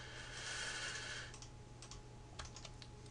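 Quiet clicking of a computer mouse while drafting an electrical schematic, a few scattered light clicks over a steady low hum of room and electrical noise.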